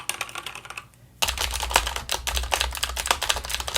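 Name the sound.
mechanical keyboard brown switches typing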